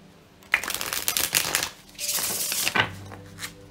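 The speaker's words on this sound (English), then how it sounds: "One more shuffle and we'll be ready to go." Tarot cards are shuffled by hand in close, quick riffling bursts, a crisp flurry that pauses briefly and then resumes before a soft final tap.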